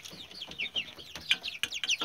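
Chickens at a quail and poultry setup cluck and chirp in quick, overlapping calls, fairly close and moderately loud, with faint thumps and rustling underneath.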